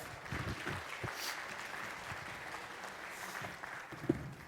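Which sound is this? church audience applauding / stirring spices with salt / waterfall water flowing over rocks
church audience applauding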